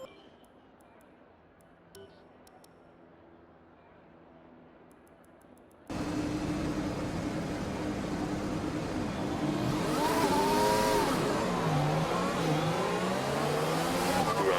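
A Formula 1 car engine in the F1 2020 video game at Monaco, starting after a quiet opening and then droning loud and steady, rising and shifting pitch through the gears as it runs a lap.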